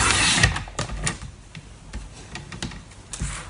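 A paper trimmer slicing Night of Navy cardstock, a series of sharp clicks and scraping strokes at close range, irregularly spaced, with no voices.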